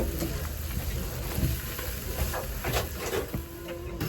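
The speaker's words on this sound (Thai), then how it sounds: "ผัดเส้นไว้นะคะ" Noodles stir-fried in a pan at a market food stall, a continuous sizzle and hiss broken by scraping and clanking stirring strokes, close and fairly loud.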